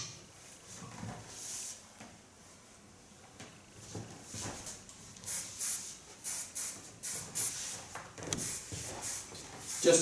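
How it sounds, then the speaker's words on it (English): A soft hairspray misted over a freshly cut and colored bob in a salon, heard as a series of short, close hissing bursts that come faster and louder toward the end. "Just a little bit hairspray,"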